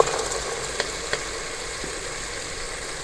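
Green peas added to a hot pan for aloo matar pulao give off a faint, even sizzle close by, with a couple of soft clicks near the start and no talking.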